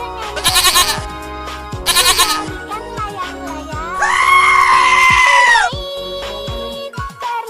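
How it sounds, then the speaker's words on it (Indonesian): A goat bleats several times over a bright backing tune: two short cries near the start, then one long, drawn-out bleat in the middle, loud and close. "Kamu benar, itu kambing."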